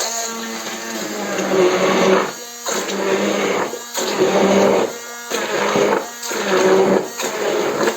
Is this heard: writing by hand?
no